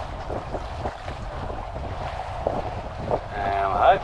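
A sailboat under sail on open water heading up the Australian east coast, with steady wind rush and water sloshing against the hull, a gust building louder near the end.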